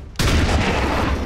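A shotgun blast in the video game XCOM 2 Long War 2: one sudden loud report that cuts in sharply after a quiet moment, then a dense, sustained roar and rumble holding steady to the end.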